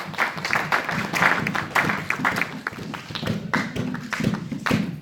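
A church congregation clapping and applauding during a sermon, steady rapid claps with some taps and thumps, fairly loud and continuous throughout.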